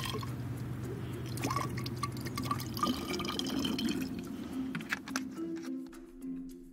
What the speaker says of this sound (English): allowed the acid to drip on the nitrite